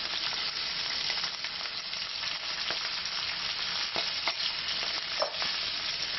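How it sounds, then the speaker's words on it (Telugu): Onions fry steadily in a pan for raw tomato chutney, giving a loud, continuous sizzle with a few brief stirring scrapes and no voices. "కొంచెం బాగా ఇట్లా వేగాలి."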